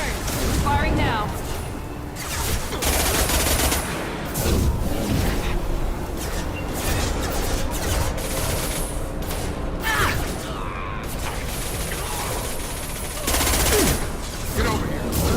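Sustained gunfire from the sci-fi shooter Mass Effect Legendary Edition, with rapid automatic bursts, booms and mechanical clatter running almost continuously, loud and close, while game voices talk over the battle.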